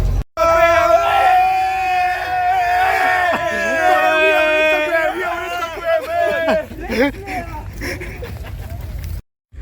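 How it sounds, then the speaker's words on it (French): Formula 1 fans at the Spa Grand Prix shout and cheer in a loud sustained roar, with drawn-out yells near the start that break into scattered shouts before an abrupt cut. "Les gens ils sont malades tu vois, dès qu'ils voient les Formule 1 et tout ils gueulent"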